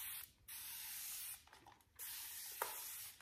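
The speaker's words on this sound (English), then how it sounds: "it's almost like a Febreze sprayer, like turns your water into aerosol, but it's not an aerosol" A continuous water mist sprayer hisses fine mist onto hair in three long, steady bursts with short pauses between them, close and fairly quiet.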